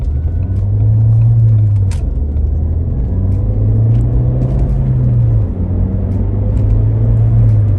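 A Ford Fiesta ST pulls out and drives, its engine a loud steady low rumble heard from inside the car with slight rises in pitch as it moves off.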